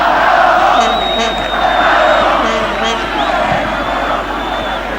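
Stadium crowd noise from Argentina v Chile at the 1995 Copa America, a loud, sustained roar of voices with whistles and shouts rising and falling, with a commentator talking over it.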